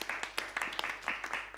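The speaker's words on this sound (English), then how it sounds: "Clap for yourselves." Small audience clapping at the close of a play reading, faint and fairly sparse with distinct individual claps in a loose, uneven rhythm.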